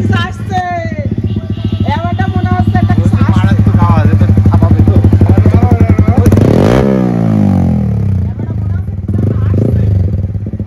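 A motorcycle fitted with a new exhaust idles and revs up close and loud, its engine note rising and falling, then surging sharply near the end before settling back to a rumbling idle.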